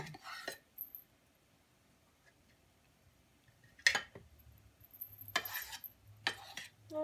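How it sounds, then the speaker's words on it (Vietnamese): A knife slicing tofu on a cutting board in a home kitchen gives a few sparse, crisp taps and clicks separated by quiet pauses, soft and close. "Giờ là cắt tàu hũ này mình sắc lại thôi, không cần đẹp."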